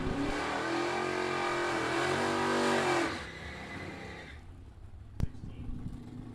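Buick Skylark drag race cars launch and roar down the strip, a loud sustained engine howl with rising revs for about three seconds, then fading quickly into the distance, followed by a single sharp click.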